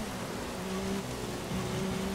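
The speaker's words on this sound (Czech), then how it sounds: "Lije nám pořádně jako z konve." Heavy rain drumming steadily in the racing game F1 2016 at the German Grand Prix, a dense constant hiss with a low car engine hum underneath.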